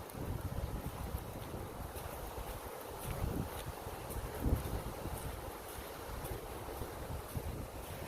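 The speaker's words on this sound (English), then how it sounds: "Runs right along the stream here." A stream running high with snowmelt rushes beside a woodland trail at Slate Run, a soft, steady broadband wash of flowing water heard faintly and continuously without voices.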